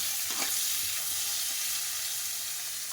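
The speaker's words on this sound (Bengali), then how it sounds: "উচ্ছেটাকে ভেজে নিচ্ছি" Bitter gourd frying in a pan, giving a steady, moderately quiet hiss of oil with a few faint stirring clicks near the start and no voices.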